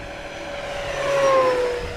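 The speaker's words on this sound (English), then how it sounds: "Full throttle pass on 8S." An FMS 1700mm Corsair V3 RC warbird with a new propeller on an 8S battery roars past at full throttle, a loud droning whine that swells and shifts pitch as it flies by.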